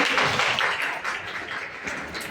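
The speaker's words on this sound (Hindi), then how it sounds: "एक बार तालियां बजाइए।" Children at a values class in Chittorgarh clap together on request, a brief burst of close, dense applause that is loudest at the start and tapers off gradually.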